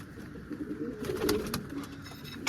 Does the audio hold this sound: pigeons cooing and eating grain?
yes